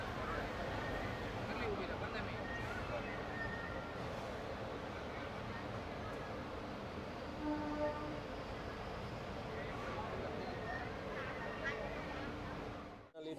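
The Yoga Express, running from Ahmedabad to Rishikesh, stands at a station platform with a steady, heavy rumble that fills the scene, dense broadband noise holding almost unchanged before cutting off abruptly at the end.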